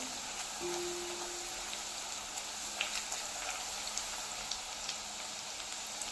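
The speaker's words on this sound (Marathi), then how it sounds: "आता इथे लसूण आपल्याला छान असा भाजून घ्यायचा आहे" Garlic roasting in oil in a pan, a faint continuous crackling sizzle with scattered tiny pops, steady and low-level throughout, no voices.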